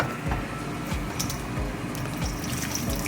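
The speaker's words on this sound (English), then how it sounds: "So turkey's done. I'm gonna dump that into my clean strainer." Cooked turkey and its juice pour into a clean strainer, a close, loud continuous gush of liquid draining with a few soft bumps as the meat lands.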